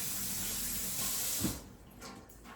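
Water rushes from a sink tap as a greasy pan is rinsed beneath it, a steady close hiss that cuts off partway, leaving faint drips and clatter.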